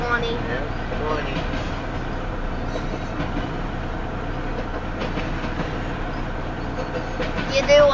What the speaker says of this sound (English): You do like how this train started moving.